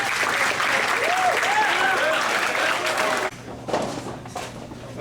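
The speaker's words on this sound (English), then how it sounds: "one big round of applause," Banquet audience at a school water polo team dinner applauds parents, loud sustained clapping for about three seconds that then drops off abruptly, leaving a few scattered claps and room murmur.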